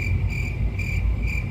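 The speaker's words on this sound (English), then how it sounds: "crickets" Crickets chirp in a steady, evenly spaced pulse as a sound effect, bright and continuous over a low rumbling background, with no voices.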